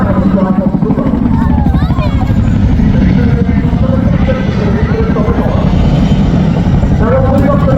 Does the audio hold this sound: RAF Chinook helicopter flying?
yes